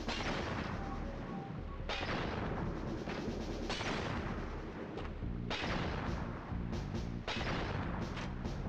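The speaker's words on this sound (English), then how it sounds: "Something is shooting." Video game gunfire in Crash Bandicoot, a dense, loud barrage of booming shots that repeats in bursts with short gaps, close and continuous throughout.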